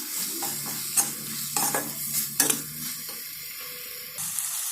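Turmeric and homemade masala are stirred into a tomato chutney in a pan. A spoon scrapes in repeated strokes over a steady, close sizzle, and a faint hum runs underneath.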